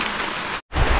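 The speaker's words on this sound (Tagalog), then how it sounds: "tuwang-tuwa na ang mga puno kasi naulan na" Rain falling steadily outdoors around a small hut among fruit trees, a dense broadband hiss that drops out briefly near the middle and then returns slightly heavier.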